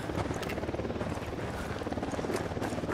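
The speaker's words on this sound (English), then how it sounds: "Helicopter inbound." A helicopter's rotor thumps in a dense, continuous drone in Ghost Recon Wildlands, loud and close, with a rapid pulsing beat throughout.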